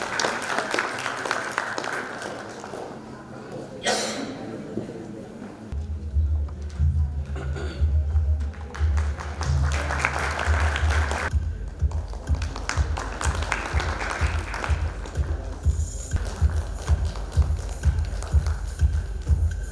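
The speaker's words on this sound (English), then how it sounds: "A huge round of applause for them as well." Audience applause at an architecture and interiors design event in Udaipur, a steady dense clatter of clapping running throughout, joined midway by low rhythmic thumping music beneath.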